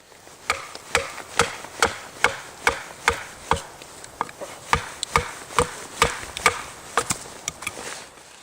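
Dry, brittle red oak firewood split outdoors in snow, heard as about sixteen sharp, evenly paced chopping strikes, loud and close, with a quiet background between blows and no talking.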